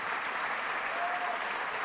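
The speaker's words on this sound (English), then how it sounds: "give them a round of applause" Steady applause from an audience at a Rhode Island State of the State address, a dense, even patter of clapping hands that fills the short moment without a break.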